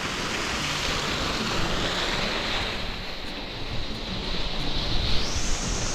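Water pours steadily into an old well, a dense continuous rushing wash that stays loud and even throughout with no voices.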